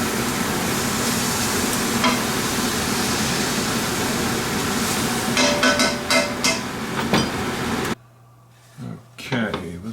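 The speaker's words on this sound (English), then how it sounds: "let's occasionally stir this one more time" Food being stirred in a pan while making Hello Fresh quesadillas, a steady sizzling scrape under background noise that cuts out near the end, leaving a few faint clatters.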